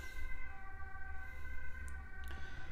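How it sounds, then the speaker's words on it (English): A wailing ambulance siren rises and falls steadily in the distance over a low background rumble. "I know if you hear the ambulance in the background."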